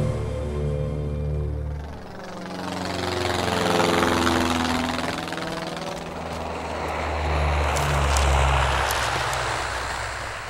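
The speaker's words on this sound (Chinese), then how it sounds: "飞机已经开始轰炸红安城了" Military aircraft engines drone loudly overhead in a bombing raid on a town, a heavy sustained roar that swells and fades twice with a sweeping pitch as the planes pass.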